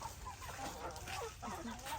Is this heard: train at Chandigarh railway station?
no